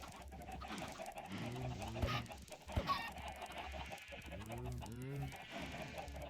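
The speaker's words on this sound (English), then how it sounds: "I don't want all these chickens running around." Chickens cluck in the Minecraft video game, several short clucking bursts close by over a murmuring background, with a sharp hit sound partway through.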